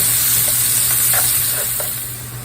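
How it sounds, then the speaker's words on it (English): Onion sautéing in four tablespoons of butter for roast beef hash, a steady close sizzle with a few soft stirring scrapes, quieting slightly toward the end. "you're going to saute the onion in 4 tablespoons of the butter for 3 to 4"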